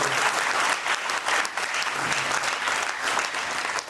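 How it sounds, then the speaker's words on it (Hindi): An audience at a motivational seminar bursts into loud, continuous applause, a dense crowd of clapping hands filling the whole stretch without a break. "तालियां जोर से बजेंगी"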